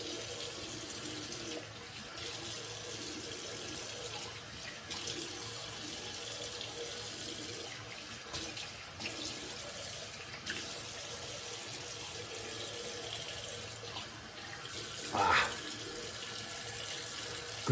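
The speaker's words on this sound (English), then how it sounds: "let's rinse with tap water" Tap water runs steadily into a sink while a straight razor is rinsed, a soft continuous hiss with a brief louder splash near the end.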